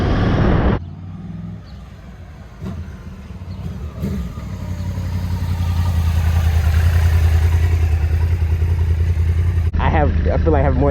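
A Yamaha R1 sports motorcycle engine runs under a rider, its steady mid-pitched drone building gradually in loudness and holding strong, with brief voices at the start and end.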